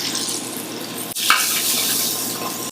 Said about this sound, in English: we're going to finish our salsify. We're going to saute it.